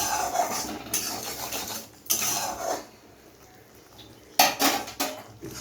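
A spoon stirs curried katla fish (doi katla) in a metal pot, making close scraping and clattering strokes in three distinct bursts separated by quieter gaps.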